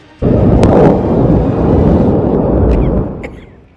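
A sudden deep, rumbling roar erupts from Mount Etna in Sicily, Italy, and holds for about three seconds before fading, loud and heavy like a violent blast.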